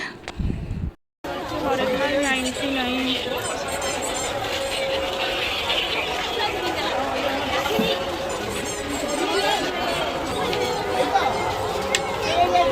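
A dense crowd at a busy fair in Jagatsinghpur, Odisha, near a temple site with market stalls, fills the air with continuous overlapping chatter, shouts and children's squeals; a narrator talks over the steady hubbub.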